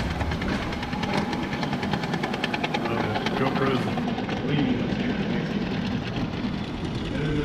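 Two HO scale model train engines haul twenty cars up a grade on a model train set built as a robotic conveyor, giving a steady, dense mechanical whir and rattle that runs throughout beneath close talk.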